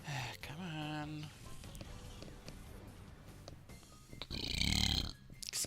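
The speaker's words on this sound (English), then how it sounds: "I feel a belch coming." A long, drawn-out belch from a man partway through a Pokémon Colosseum play session, rumbling and pitched, followed by a louder guttural burst near the end, with a game's background music running underneath.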